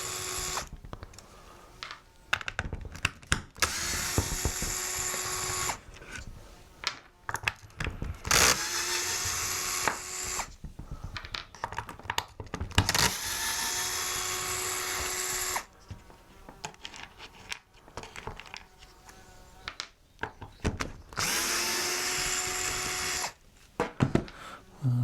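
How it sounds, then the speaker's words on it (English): Cordless drill or driver backing out the motor housing screws on an EGO CS1800E chainsaw, repeated whirring bursts of a few seconds each with brief pauses between, close and fairly loud. "So now you want to unscrew the motor housing itself."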